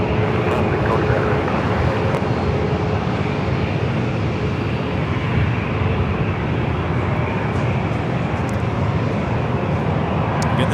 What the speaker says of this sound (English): The Southwest flight up next for takeoff.